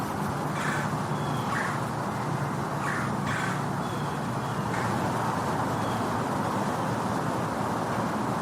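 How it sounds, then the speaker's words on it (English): A blue jay calls in the distance: a few faint, harsh squawks rise briefly above a constant hiss of road traffic, with no talking. "a blue jay is calling in the distance"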